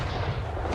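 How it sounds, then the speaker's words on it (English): A single gunshot in a film booms out across a barren landscape, a deep, heavy, rumbling report that fills the whole short moment with its echoing tail. "a gunshot suddenly echoes across the barren landscape"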